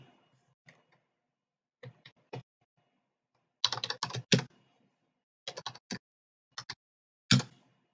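Bursts of quick clicking keystrokes on a computer keyboard, close and fairly crisp, coming in short clusters separated by pauses, with no talk.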